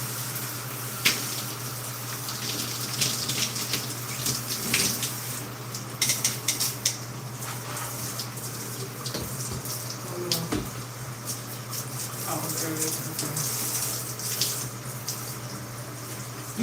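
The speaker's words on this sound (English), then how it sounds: "I'm gonna put some water in my water bottle" Tap water runs steadily into a water bottle indoors, a continuous hiss and splash with a few brief clatters and knocks, moderately close and without talk.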